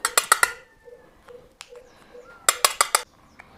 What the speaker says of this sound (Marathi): तर आपण हे चमच्याने ना अशी वेस्लिम बाहेर काढून घ्यायची एका प्लेटीत